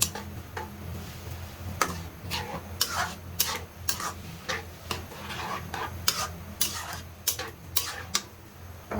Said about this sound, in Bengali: চিনিটা দিয়ে ভালো করে মিক্স করে নিব।